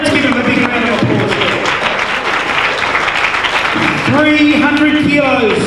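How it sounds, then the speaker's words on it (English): An audience at a powerlifting meet applauds after a close lift, loud continuous clapping with a few thumps and crowd noise mixed in throughout. "Let's give him a big round of applause."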